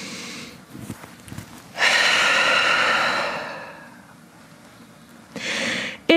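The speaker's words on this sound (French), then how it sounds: "Grande respiration en chien tête en bas." A long, deep breath during a Vinyasa yoga session in downward dog: a loud sustained breathy exhale swelling and fading over a couple of seconds, with a shorter sharp breath near the end, close to the microphone.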